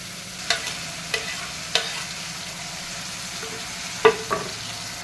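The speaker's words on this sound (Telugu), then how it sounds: "ఈ టైంలో మనం టమాటో వేయాలి." Black chickpeas and tomato frying in oil for kala chana curry give a steady low sizzle, with a few sharp scraping stirs of a spatula against the pan standing out now and then.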